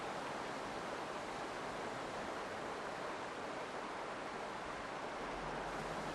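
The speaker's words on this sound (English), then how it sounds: "The sound of the rough stream depresses their spirits" A rough, dangerous river about 30 meters wide rushes through the Serengeti. It makes a steady, broad roar of churning water, even and continuous, fairly faint and with no voices over it.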